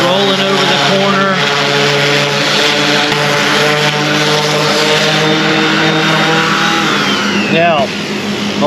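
A power sanding machine runs on fiberglass, a loud continuous motor whine with a steady droning pitch that briefly shifts near the end, close up and dominating throughout.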